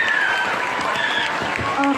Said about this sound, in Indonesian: Boleh dong tepuk tangannya sekali lagi teman-teman.